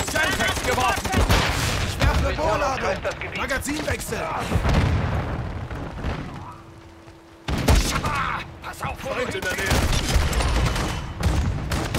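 Multiplayer gunfire in Call of Duty Modern Warfare II, dense bursts of loud shots and booms under a voice, dropping to a brief lull before another sharp volley resumes.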